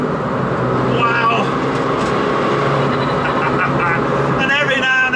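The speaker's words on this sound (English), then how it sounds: "every now and again you get this kind of churn from the wastegate at the front" A road-legal R56 Mini Challenge with 280bhp drones loudly from inside the cabin, its engine and road noise constant, with occasional churning bursts from the front wastegate and a voice speaking over it.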